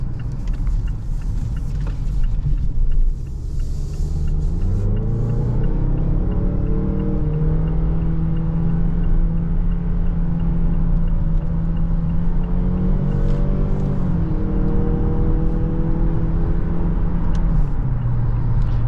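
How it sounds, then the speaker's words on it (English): A 2022 Mazda CX-9 SUV cruises on the highway in sport mode, its engine droning steadily from inside the cabin over a constant road rumble, with the pitch rising and shifting as it accelerates. "I'm gonna go ahead and hop on the highway again, and I'm gonna put it in sport mode now"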